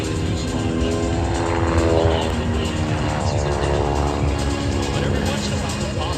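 Red Bull Air Force propeller airplane at the 2024 Miramar airshow, a steady droning engine roar with a slowly shifting pitch, moderately distant, under continuous commentary.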